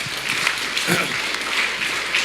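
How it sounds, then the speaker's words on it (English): A group applauds the women presenters after a class lesson, a brief burst of steady clapping that stays fairly even and moderately loud, with some voices mixed in underneath. "Let's give them a round of applause."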